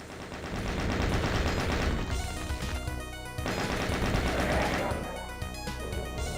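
Chain gun firing in Doom Eviternity, a loud, sustained stream of rapid machine-gun shots with brief pauses between bursts, mixed with game sound effects.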